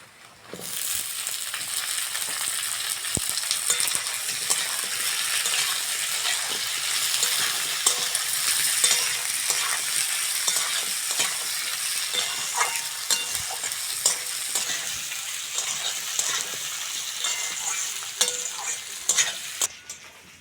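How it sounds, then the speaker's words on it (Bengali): Cut potatoes fry with onions in a pan for a bhola fish curry, with a continuous bright sizzle and frequent scraping stirs of a spatula, close and steady, no talking. "পেঁয়াজের সঙ্গে আলুটা ভালো করে ভেজে নিয়েছি"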